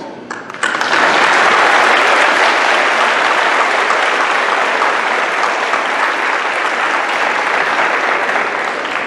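Loud, sustained applause from a large crowd at an 8th grade graduation, starting abruptly and continuing steadily without a break.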